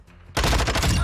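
VAZNEV 9K submachine gun fire in Call of Duty: Modern Warfare II, a sudden loud rapid burst of automatic shots that starts abruptly after a brief quiet moment and keeps going.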